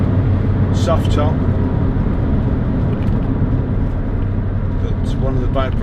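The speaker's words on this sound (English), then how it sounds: "one of the byproducts is you also hear the engine noise" Steady, loud engine and road drone from a 2006 Toyota MR2 1.8 VVT-i roadster, heard from inside the cabin through its canvas soft top, a continuous low rumble lasting the whole stretch with faint voice-like traces.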